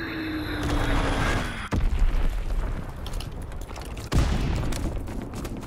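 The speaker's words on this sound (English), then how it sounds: "Enemy bomb incoming. Get to cover." Enemy bomb blasts in a war video game, heavy booming explosions landing twice in a dense, continuous rumble of battle noise with a faint descending whistle before the first hit.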